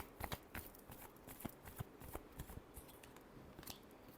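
A deck of tarot cards is shuffled by hand nearby, giving a quiet, irregular run of crisp flicks and snaps.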